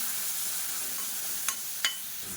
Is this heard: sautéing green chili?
yes